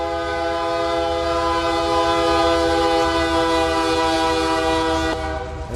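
Sustained chord of a BNSF ES44DC locomotive horn at a grade crossing in Run 8 Train Simulator, loud and steady for about five seconds before cutting off, with rail rumble underneath.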